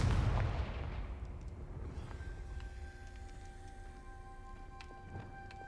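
A Confringo fire spell bursts and lights something in Hogwarts Legacy, opening with a loud, sharp blast that decays into a soft crackling hiss under steady ambient tones.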